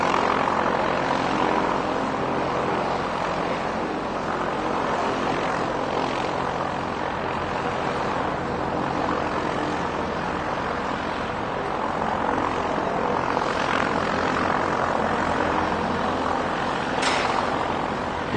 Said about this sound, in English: A340 over the top.